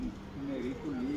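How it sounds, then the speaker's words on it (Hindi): Pigeon landing on a rooftop and cooing, a soft low repeated coo close by over light background noise. "एक कोई किसी का कबूतर आया हुआ है"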